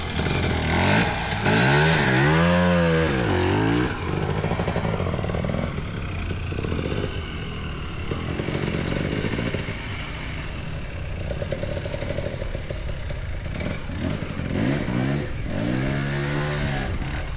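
Motorcycle engine revving hard on a steep hill climb, loud and continuous, with rising and falling pitch sweeps as the throttle is worked, close up, no talk.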